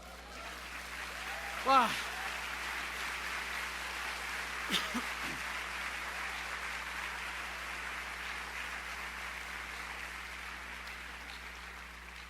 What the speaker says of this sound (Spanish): ¿No le dan un aplauso?